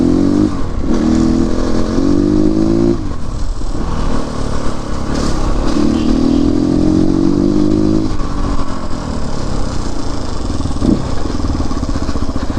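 A CrossX 300 motorcycle engine revs loudly and close, its pitch climbing and dropping in repeated bursts over a steady idle rumble, with no talking.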